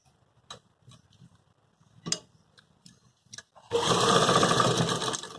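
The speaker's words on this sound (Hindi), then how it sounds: "चलिए पहले सिलाई कर लेते हैं।" A sewing machine stitching the back shoulder seam of a collared suit, first a few scattered mechanical clicks and taps from handling, then a sudden loud, steady whirring run of stitching for the last couple of seconds.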